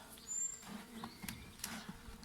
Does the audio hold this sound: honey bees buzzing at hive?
yes